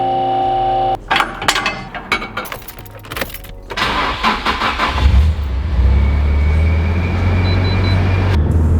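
Keys jangle briefly, then a Nissan S15 with a new Tomei 1.5-way limited-slip differential cranks and starts. Its engine settles into a loud, steady idle, heard close from inside the car.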